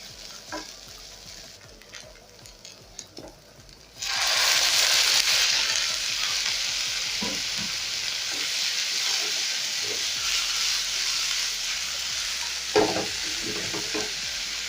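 Broccoli and shredded chicken hit a hot pan with a sudden loud, steady sizzle that continues without a break, with occasional stirring clinks over it.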